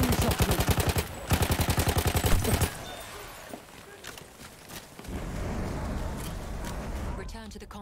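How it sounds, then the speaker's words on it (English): Gunfire in the Battlefield 1 video game, rapid repeated shots in two dense bursts followed by scattered impacts and rumbling battle noise, with a voice speaking over it. "That's an enemy shotgun."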